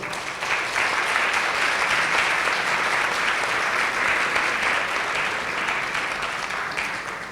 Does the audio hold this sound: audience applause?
yes